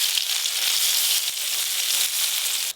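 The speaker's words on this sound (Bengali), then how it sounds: "এবার এই বেগুনগুলো ভেজে নেব।" Eggplant slices fry in hot oil, giving a steady, loud crackling sizzle that runs unbroken for the whole stretch, with no voices over it.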